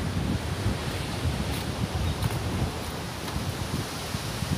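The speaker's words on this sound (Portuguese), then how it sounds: "esse vento aqui é que atrapalha" Steady wind blowing across a sandy beach, buffeting the microphone with a constant low rumble and hiss, with faint surf in the background and no speech.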